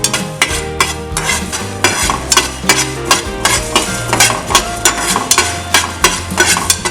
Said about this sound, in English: in a pan we have to initially fry coriander seeds till it becomes little brown.